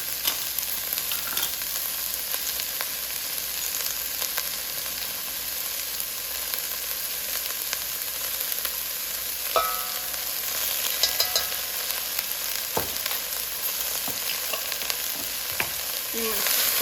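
Onions and ground ginger frying in a soup pot for broccoli cauliflower soup, a constant bright sizzle held for a long stretch, with occasional soft scrapes and taps as the mixture is stirred.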